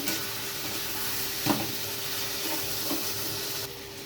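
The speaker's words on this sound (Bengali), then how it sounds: "তো ভালোভাবে খুন্তি দিয়ে নেড়ে নেব।" Turmeric and tomato paste stirred with a spatula in a hot frying pan, a steady low sizzle with a few soft scraping strokes, close and without talk.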